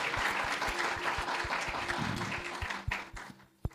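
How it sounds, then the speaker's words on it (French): An audience at a teaching session by Prophète Francis Ngawala breaks into sustained, dense applause that thins out toward the end, leaving a few isolated claps. "Applaud for yourself."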